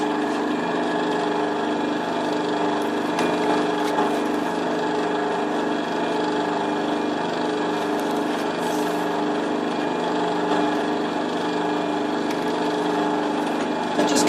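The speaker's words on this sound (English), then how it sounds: "Switch it on and just drill all the little holes." Electric drill boring small holes for a clock: a constant, close motor drone that holds steady and unbroken throughout, with faint scraping on top.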